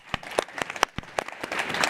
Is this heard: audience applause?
yes